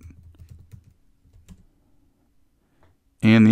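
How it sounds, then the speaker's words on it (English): A run of quick key clicks on a computer keyboard while a password is entered during a software installation, close and fairly soft, ending in a brief pause before a louder burst of sound at the very end. "So go ahead and type out your password."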